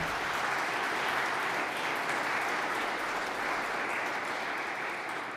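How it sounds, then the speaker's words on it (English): Sustained applause from a crowd at an America 250 kickoff event in Montgomery County, Pennsylvania, a dense steady roar of clapping held evenly from start to finish with no pauses. "So let's give a round of applause for our law enforcement."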